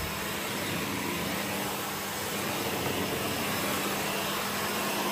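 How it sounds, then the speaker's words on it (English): A Hoover HL4 Anti Twist Pets vacuum cleaner runs steadily over carpet, a loud, constant motor whine and airflow roar with no pauses. "And I'm going to vacuum normally."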